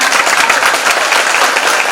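A seated crowd at a temple gathering claps together in dense, sustained applause, loud and close throughout with no pauses.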